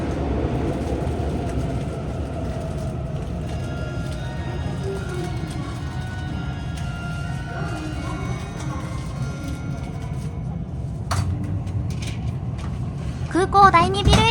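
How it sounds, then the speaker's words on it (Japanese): A Narita Express E259 series train pulls away from Airport Terminal 2 station, with a low steady rumble and rising motor whine, a few squeals and clanks near the end. "空港第2ビル駅を出発しました。"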